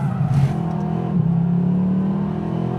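Inside a Mercedes SLS AMG with its 6.2-litre V8 and twin-clutch gearbox on a track, a steady, loud engine drone holds near constant pitch, with a brief dip and shift in tone partway through.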